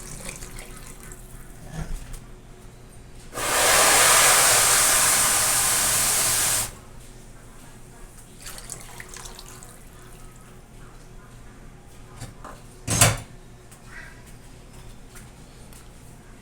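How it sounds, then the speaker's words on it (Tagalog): Water from a tap gushes into a cooking pot of softened mung beans for about three seconds, a loud steady rush that stops abruptly, followed by quiet kitchen handling and one sharp knock. "Lagyan natin ng tubig."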